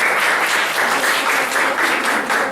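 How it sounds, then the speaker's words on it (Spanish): Steady, dense audience applause, fairly loud and continuous, with no talk over it. "Aplausos, por favor."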